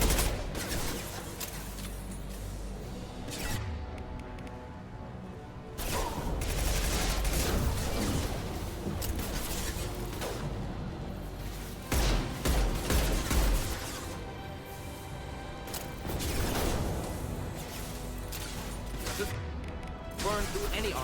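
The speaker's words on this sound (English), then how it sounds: "Deploying incineration tank." Heavy combat noise during an incineration tank attack in the Mass Effect 2 video game, with repeated crashing bursts and rattling fire, loud and layered, and a voice speaking over the fighting at times.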